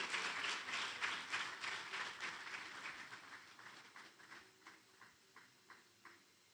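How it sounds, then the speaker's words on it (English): A hospital anniversary celebration crowd in Fiji gives a round of applause, quiet clapping that thins into a few scattered rhythmic claps before stopping. "Big round of applause for Ruthi."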